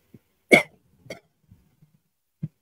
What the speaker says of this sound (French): je vais tousser dans vos oreilles